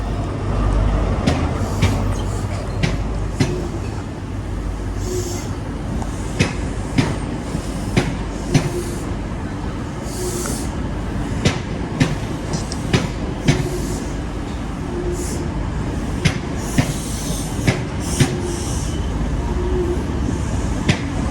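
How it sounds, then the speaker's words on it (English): An HST passenger train, locomotive 43301, rolls past nearby in the West Midlands with a steady rumble and rhythmic clicking of wheels over rail joints. "Now our 9th locomotive of the day. Here it is, the HST 43301."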